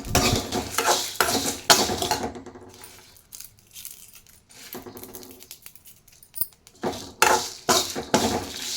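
Whole spices for homemade sambar powder are dry-roasted in a pan and stirred continuously. Close bursts of scraping and clattering come in clusters, separated by a few quieter pauses.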